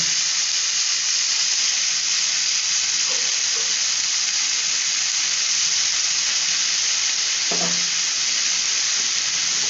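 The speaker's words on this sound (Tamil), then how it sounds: "இப்போ நம்ம என்ன பண்ணலான்னா இந்த கீரையை வந்து இதில் போட்டுப்போம்" Chopped palak spinach fries in a hot pan, giving a loud, even sizzle and hiss that runs throughout, with a couple of soft knocks from the stirring utensil and no talk.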